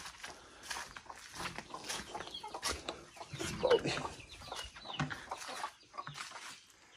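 Chickens and a rooster clucking on a Brazilian farm, with other animals nearby; a steady, moderately loud mix of overlapping clucks and calls with no one talking.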